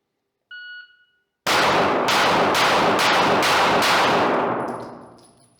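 A short shot-timer beep sounds, then a six-shot course of rifle gunfire follows in quick succession, loud and close, with the reports ringing into a fading echo.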